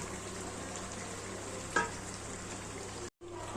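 Chicken meat sizzles and fries steadily in a hot pan while cooking a Bengali chicken curry, a continuous hiss with a brief sharper spatter midway and a short drop to silence near the end; no one speaks.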